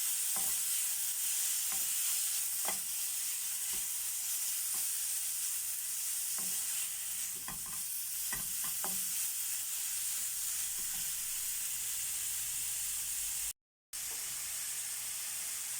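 Minced meat sizzles steadily in oil in a pan while being stir-fried for a potato dish, with a constant close hiss and occasional scraping stirs, no talk.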